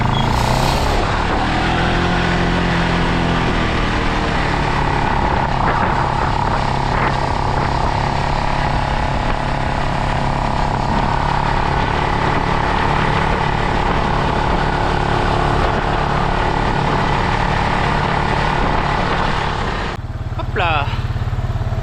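Tractor engine driving steadily across a field during organic anti-slug treatment in a pea crop, a continuous loud low rumble with mechanical drone throughout and a voice talking over it near the start.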